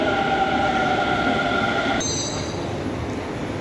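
A Delhi metro train at a station platform with safety screen doors, its steady rumble and wheel noise filling the clip, then a high tonal whine and hiss as it slows, with no talking.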